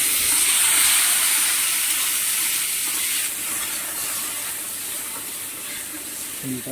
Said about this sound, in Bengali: এবার মাছটা আমগুলো ভেজে নেব